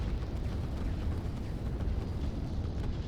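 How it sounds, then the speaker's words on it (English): A rocket strikes in the real-time strategy game Line War, a dense, continuous rumbling roar like a sustained blast that fills the whole moment at steady loudness, with no voices over it. "And here comes another rocket."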